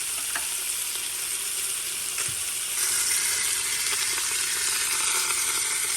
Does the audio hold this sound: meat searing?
yes